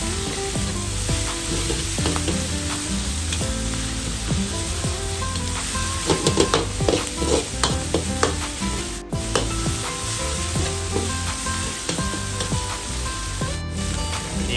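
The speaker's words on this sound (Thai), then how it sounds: "ตรงนี้ใส่ลงไปผัดให้หอมสุด ๆ เลยครับ ผัดให้เครื่องแกงแตกมันแตกความหอมออกมานะครับ" Red curry paste pounded with garlic and red chili stir-fried in a hot pan, a loud steady sizzle with scraping spatula strokes throughout, no voices.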